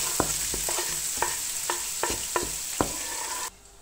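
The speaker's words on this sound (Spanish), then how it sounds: "En el mismo aceite vamos a sofreír una cebolla bien picada y 3 dientes de ajo." Finely chopped onion and three garlic cloves fry in oil in a pan with a steady hiss, punctuated by regular light scraping taps of stirring, before the sound cuts off abruptly near the end.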